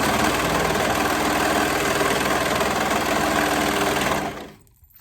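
A sewing machine stitches the neckband of a dolman dress in one steady, fast mechanical whir up close, then stops abruptly near the end.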